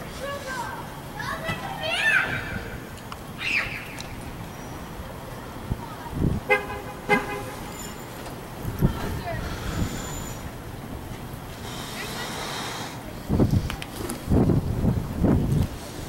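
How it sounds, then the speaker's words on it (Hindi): Car horns honk in a traffic jam during heavy snowfall in Toronto, with short toots and a longer blare scattered among the rumble of slow traffic, while children's voices and talk are heard throughout. "ट्रैफिक जाम हो गया है यहाँ पे"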